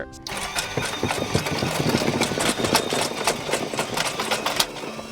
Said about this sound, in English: I'm gonna chop all these up with my vegetable slicer